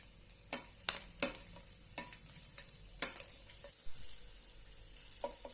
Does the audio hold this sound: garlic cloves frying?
yes